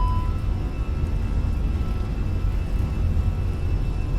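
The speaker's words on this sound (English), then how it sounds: "setting thrust on the Airbus" Airbus A320 jet engines spool toward takeoff thrust, a steady broad roar heard from inside the cockpit, even and sustained with a faint tonal whine above the low rumble.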